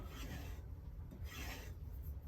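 A knife edge being honed and polished gives a soft, close rasping stroke repeated in slow passes, low and steady with faint swells, no voice present.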